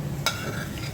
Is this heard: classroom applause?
no